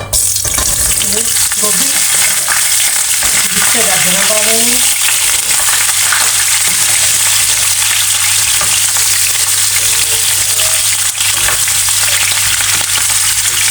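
Carrot pieces dropped into hot mustard oil in a home kitchen, a loud, dense, continuous sizzle close up, with a brief rattling stir near the start and no talking.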